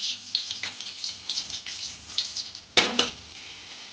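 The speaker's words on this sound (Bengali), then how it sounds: "ভালো করে এটা স্টার্ট করি পাপড় ভাজা দিয়ে" Papad frying in hot oil gives off bursts of light crackling and bubbling at moderate loudness, rising into a sharper flurry near the end, with no voices.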